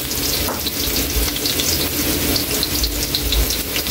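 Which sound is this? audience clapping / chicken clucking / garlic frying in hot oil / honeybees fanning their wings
garlic frying in hot oil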